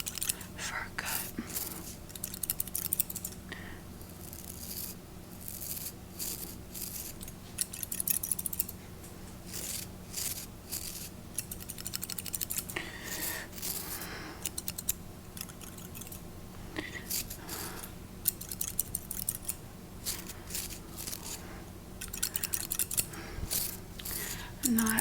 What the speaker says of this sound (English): I think that a haircut will do you well, just a little bit of a fur cut.